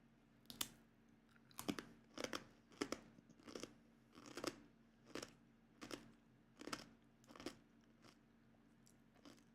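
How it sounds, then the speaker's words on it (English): Crunchy biscuits, leftovers from a snack platter, chewed close to the mic: about ten sharp, evenly spaced crunching bites over a faint steady hum, with no talking. "These are quite crunchy biscuits too."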